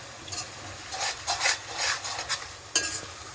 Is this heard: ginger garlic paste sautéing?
yes